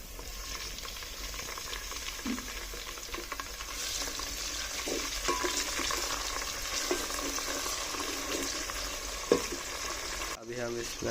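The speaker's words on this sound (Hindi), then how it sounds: "अभी हम इस पे पानी डालते हैं।" Loud, continuous sizzling and frying crackle as water hits browning onions, with occasional stirring clinks, ending in a brief sharp clatter.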